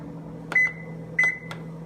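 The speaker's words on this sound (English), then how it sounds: "you'll want to microwave it" A microwave oven hums steadily, cooking a strawberry cobbler in a mug, with a few sharp beeps ringing over the drone.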